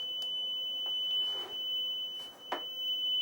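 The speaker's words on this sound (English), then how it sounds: "this horrible beeping sound which is indicating that something has gone wrong with your setup" An analogue sync pulse generator sounds its error alarm after a shorting cap on a connector triggers a black-burst level fault: a steady, piercing high-pitched beep held almost continuously with brief breaks, alone in a quiet room.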